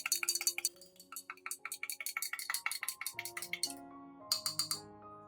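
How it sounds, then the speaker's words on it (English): Spoon stirring coffee into hot water, quick clinking taps against the container in an uneven rhythm, close and fairly faint, with a short pause before a final few clinks. "Stir well until dissolved."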